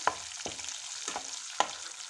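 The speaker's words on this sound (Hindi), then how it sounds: "जैसे ही ये लहसुन अब थोड़ा सा फ्राई हो जाएगा" Garlic frying in a pan with a little asafoetida for Punjabi-style sarson ka saag, a faint steady sizzle broken by four sharp utensil scrapes or taps spaced about half a second to a second apart.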